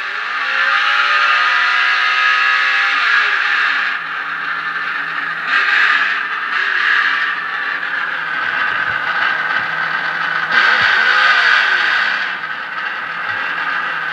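Onboard engine sound from a Traxxas UDR RC truck runs continuously and fairly loud, its pitch climbing and dropping several times as it shifts up through the gears.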